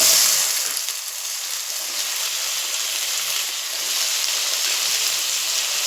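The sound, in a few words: tomato, onion and whole spices frying in oil in a pan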